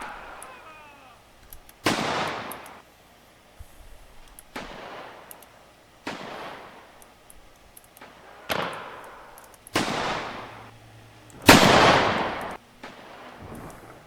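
Gunshots ring out in a US Civil War mod video game, about six sharp, loud reports spaced a couple of seconds apart, each with a short echoing tail over quiet background ambience.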